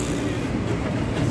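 A New York City subway F train runs with a loud, steady rumble and rattling rail noise close by, with no voices.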